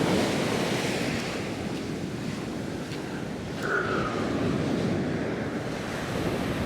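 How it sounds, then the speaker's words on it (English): Ocean waves breaking and washing up a beach where someone is surf fishing, a steady roaring wash with wind noise on the microphone, one surge swelling slightly partway through, no voices. "I'll wait for the wave to come up."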